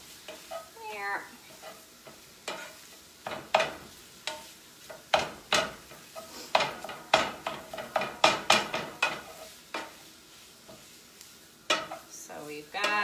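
Ground pork sizzles in a big titanium-reinforced aluminum skillet as a utensil repeatedly scrapes and knocks against the pan in an uneven rhythm of sharp clacks over a constant hiss, with no one talking.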